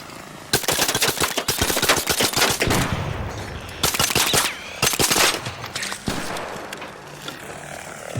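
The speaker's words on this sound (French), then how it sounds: "le arc là qui rafale, il est bien plus dangereux que celui qui stun" Bow weapon in a PvP video game firing in rapid bursts, sharp repeated shots in dense clusters separated by brief pauses, loud and close against steady game background noise.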